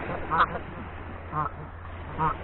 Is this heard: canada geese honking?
yes